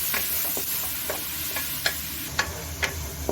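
Garlic ginger paste frying in ghee over a medium flame for Punjabi bhindi gosht, a steady close sizzle with soft, regular stirring taps.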